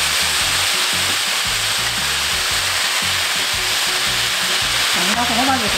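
Carrots and Korean zucchini fry together in a hot pan for a potato side dish, giving a loud, continuous sizzle with low rhythmic scraping as they are stirred; a faint voice briefly surfaces near the end.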